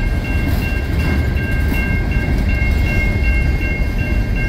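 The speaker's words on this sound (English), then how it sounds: "Pretty short train." A short CN freight led by an old Illinois Central locomotive rolls past on the Sorel Subdivision outside Montreal, a loud close continuous rumble with steady wheel and rail noise throughout.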